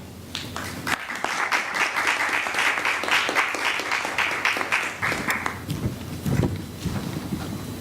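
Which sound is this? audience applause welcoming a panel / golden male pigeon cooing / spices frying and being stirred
audience applause welcoming a panel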